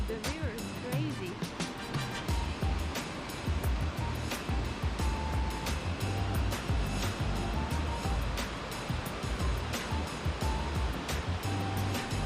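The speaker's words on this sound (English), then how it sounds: "My God, the river is crazy." A fast mountain river in the Carpathian Mountains of Ukraine, near Huk waterfall, roars as a continuous, dense rush of water close by, with brief thuds and knocks over the torrent.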